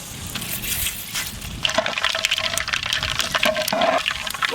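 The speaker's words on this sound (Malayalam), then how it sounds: "വീണ്ടും ശുദ്ധമായ നല്ലെണ്ണ, ഇത് കുറച്ച് കടുക് ഇട്ട് കൊടുക്കാം." Mustard seeds are dropped into hot sesame oil, and a loud, dense crackling sizzle with quick popping spatters builds and keeps going, heard up close at an outdoor village cooking setup.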